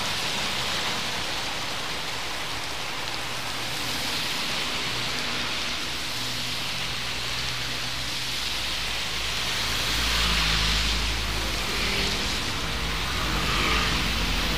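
Heavy rain pours steadily outdoors in a dense, even hiss that stays loud throughout, with a low rumble swelling toward the end.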